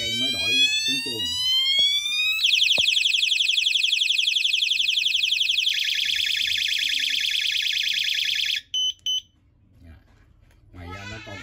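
Siren alarm of a multifunction camping flashlight, loud and continuous, changes tone partway through from a rising sweep to a fast pulsing warble, then stops abruptly, followed by a brief voice.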